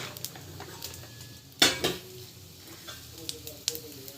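Chana dal frying in oil in a pan, with a soft sizzle under a sharp metallic clink of a spoon or utensil against the pan partway through and a few lighter taps afterward.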